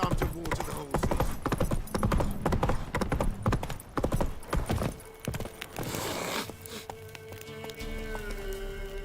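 Horse hooves clip-clop in The Witcher 3 video game, a dense run of rapid hoofbeats slowing to a sparse walk, close and loud, with scattered game voices.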